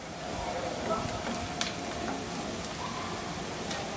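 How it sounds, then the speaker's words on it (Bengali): Dried red chillies fry in oil for a tempering after garlic has been fried out, giving a soft, even sizzle like light rain with faint scattered pops, quiet and close throughout. "শুকনা মরিচটা একটু ভেজে নিব, এটা বাগারের জন্য"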